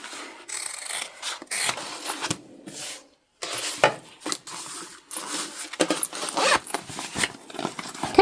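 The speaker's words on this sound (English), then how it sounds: "I will trim down the zipper bits with my zipper trimming scissors." Zipper-trimming scissors snip and rub against zipper ends while a bum bag is being sewn, heard as close, repeated scraping and clicking cuts in an irregular rhythm, with no talking.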